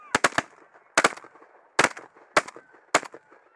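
Shotgun blasts from a Beretta A400 Xtrema during a parrie hunt in Northland, New Zealand: five sharp, loud reports, several in quick doubled bursts, spread across a few seconds outdoors with a lingering background hum.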